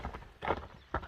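A horse's hooves clip-clop in a few uneven steps, close and moderately loud, as the animal is shown walking for sale as a fast horse suited to ulak (kok-boru) games; no voices are heard.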